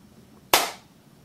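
A single sharp hand clap, loud and fairly close though struck from about two meters back, meant to trigger a clap-activated on/off switch circuit, with a quick decay into a quiet room.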